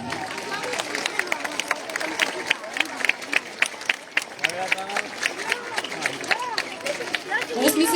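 Crowd at an outdoor Independence Day celebration on a square in Tetovo, Macedonia, breaking into scattered clapping that builds into a sustained applause, mixed with cheers and chatter.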